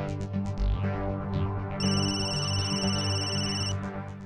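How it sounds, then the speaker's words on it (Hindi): A phone's electronic ringtone chimes over a steady musical background, repeating its bright tone for a few seconds before stopping. "किसका फोन है?"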